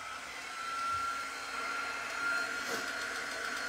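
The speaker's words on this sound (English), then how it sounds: "you can use a blow dryer or this quick dry tool" A handheld quick-dry heat tool blows steadily over chalk paste on Easter bunny and carrot decor, a continuous airy whir with a faint whine, at moderate level and fairly close.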